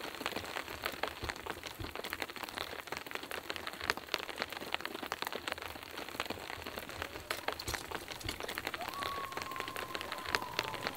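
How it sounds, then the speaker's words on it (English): Rain patters steadily at night on a campsite during an overlanding and backpacking trip in Colorado and South Dakota, a soft, even crackle of drops that runs on with no one talking. "I'm looking forward to going to sleep, listening to the rain."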